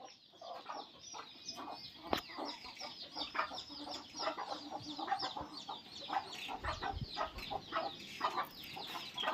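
Desi chickens in a 40 by 12 foot shed cluck and chatter in a busy overlapping flock, with nearby calls and occasional thumps.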